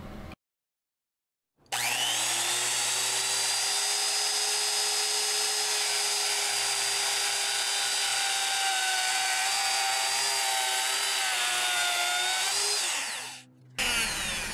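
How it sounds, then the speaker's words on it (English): A router fitted with a straight bit cuts freehand into an aluminum enclosure, giving a loud, steady high-pitched whine that runs without a break for about twelve seconds after a short silence, then stops. "Then I put a straight bit on the router and set up to freehand the line I'd just drawn."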